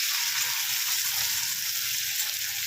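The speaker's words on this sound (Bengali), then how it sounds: "এটাও একটু হালকা করে ভেজে নেবো।" Ilish (hilsa) fish pieces frying in oil in a pan, a steady, bright hiss of sizzling fat, fairly close and unbroken, with no voices.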